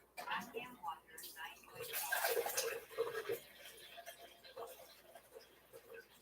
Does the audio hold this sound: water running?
yes